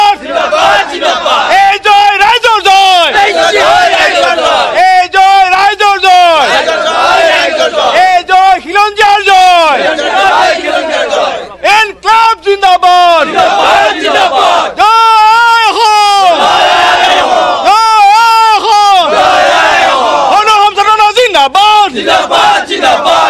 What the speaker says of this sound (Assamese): শ্বহীদ ন্যাসত এনেধৰণে বিজয় উল্লাস তেওঁলোকে কৰিছে